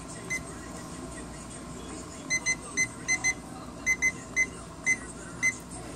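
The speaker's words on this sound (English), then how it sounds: "Now that our timer has gone off" A lab timer going off beside a running centrifuge, sounding a series of short, sharp electronic beeps in uneven pairs and singles over a steady low machine hum.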